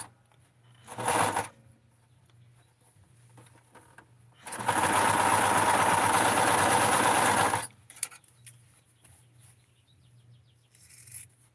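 A sewing machine runs in one steady burst of about three seconds, stitching a doll dress at the armhole, with quieter handling noises and faint rustling before and after.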